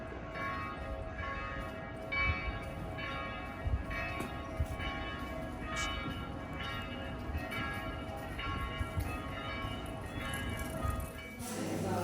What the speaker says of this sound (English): just have these kind of cacophonous bells in the background and beautiful river